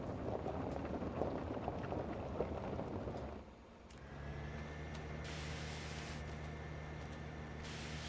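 A garden hose sprays water down harvesting gear, a steady hiss that cuts out briefly midway, then resumes under a low engine-like drone with a faint whine.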